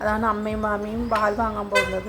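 A milk delivery vehicle's horn sounds in a long, steady honk beneath a person talking, with a few brief louder blasts near the end.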